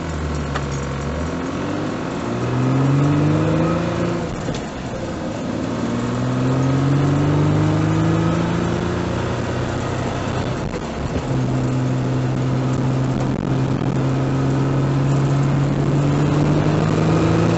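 A car's engine revs and pulls away, rising through several gear changes as it accelerates and steadies at cruising speed, droning continuously with no talk.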